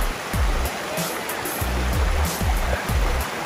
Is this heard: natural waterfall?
yes